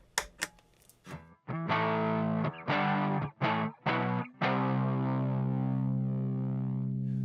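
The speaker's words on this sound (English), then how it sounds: "there is that sparkly clean that happens when you do roll down the volume on these, when the fuzz is pretty hot" An electric guitar plays through a hot fuzz pedal with its volume knob rolled down for a sparkly clean tone. A few plucked notes lead into a run of strummed chords and a final chord that rings out and fades, with no voices.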